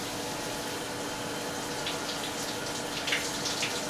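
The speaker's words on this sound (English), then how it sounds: "Let the water hit it until it changes color." Shower water runs onto a black leather first base mitt, a soft, continuous hiss and patter heard faintly and steadily with no one speaking.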